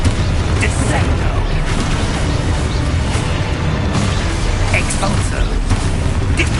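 Rapid, dense spell blasts and magical explosions from Hogwarts Legacy combat, a loud continuous barrage of booms and crackling bursts with a voice shouting spell names over it.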